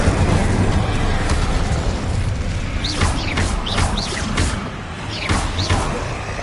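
Spell effects in Hogwarts Legacy on PS5, with the Incendio fire spell cast amid Confringo and Glacius: dense whooshing bursts and rising swishes over a constant roaring game-combat backdrop, loud and continuous, several sharp zaps toward the end.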